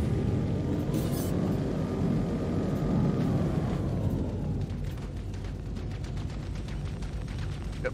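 A jet aircraft roars past in a naval combat video game while gunfire crackles in sharp bursts over a continuous loud engine rumble, with no speech.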